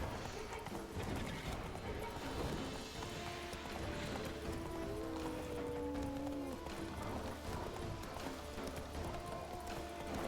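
A horse's hooves clip-clop steadily on the ground in The Witcher 3 on Skellige, faint and continuous under ambient game music and background noise.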